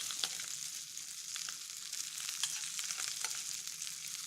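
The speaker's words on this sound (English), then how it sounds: "you take just a piece of whole butter and a branch of thyme, and you add it to the hot pan" Butter and a sprig of thyme sizzle steadily in a hot pan while a piece of meat is basted, a dense continuous frying hiss with small crackling pops throughout, close and moderately loud, with no talking.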